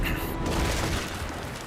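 Ship cannons in the naval battle game World of Sea Battle, fired as a heavy, rumbling volley of booms that rolls on and gradually fades.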